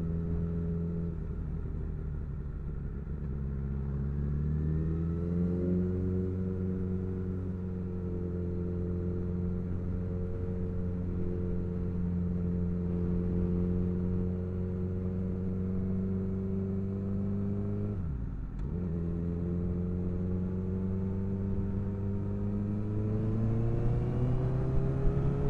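A racing motorcycle engine at the Northwest 200 holds a steady loud drone for about 25 seconds, its pitch sweeping up and down as the rider shifts gears, with one sharp dip and recovery near the end, no talk.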